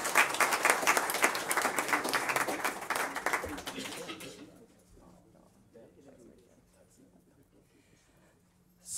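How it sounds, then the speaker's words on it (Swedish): Warm applause from a crowd fills the first four seconds, dense and lively, then fades away into quiet room murmur. "en varm applåd"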